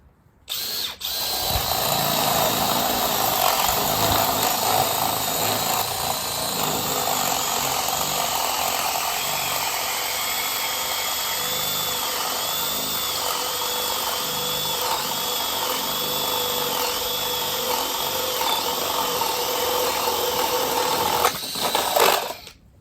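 A Makita drill in high speed mode boring 1.5-inch holes with a spade bit, a loud, close, continuous motor whine with a grinding cutting tone that runs unbroken for about twenty seconds before stopping.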